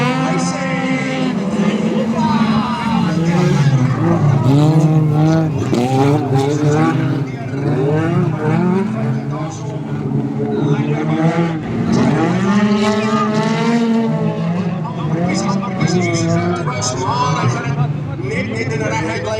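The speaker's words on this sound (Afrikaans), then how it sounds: "die wedrenne gaan begin" Race cars at the George Motor Club Champion of Champions meeting roar and shift steadily through a continuous loud engine drone, while a commentator talks over it throughout.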